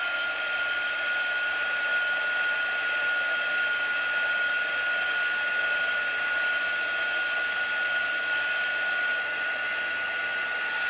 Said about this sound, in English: So let's give this a quick dry.